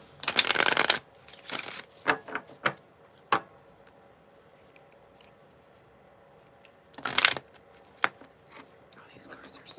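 Oversized tarot cards are shuffled by hand in two close, crisp bursts of riffling and flicking, separated by a quiet stretch with a few soft taps and faint low talk.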